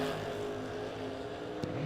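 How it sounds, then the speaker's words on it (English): Chevrolet Malibu drag racing car at a drag strip event, a steady low engine drone with harmonic tones at moderate distance, ending with a short sharp burst near the end. "Here comes the Malibu."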